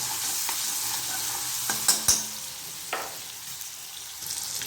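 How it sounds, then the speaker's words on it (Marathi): Tomato and garlic fry in a pan with a constant close sizzle, interrupted by a few sharp clinks and scrapes as the food is stirred. "आता हे थोडंसं जे आहे फ्राय करून घ्यायचं"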